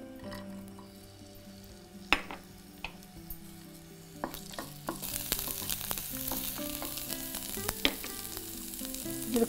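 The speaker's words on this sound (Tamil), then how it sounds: "எண்ணெய் ஊற்றிட்டு இந்த நறுக்கி வச்சுருக்க பிரண்டையை அதோட சேர்த்துருங்க." Chopped pirandai (veld grape) frying in hot oil, a steady sizzle that swells louder partway through, with occasional clinks and stirring scrapes of a utensil in the pan; no voices.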